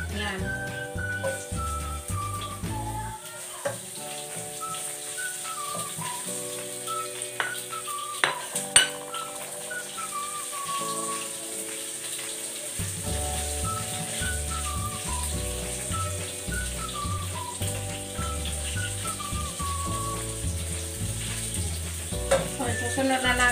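Ginger sautéing in a pan of browning chicken for adobo, a continuous sizzle with occasional clinks of a utensil against the pan, under steady background music.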